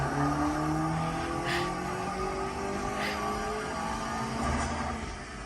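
A Honda Civic Type R (FN2) engine revs and drones steadily on a dyno at moderate volume, sounding like a recording played through car speakers, with a few faint higher bursts.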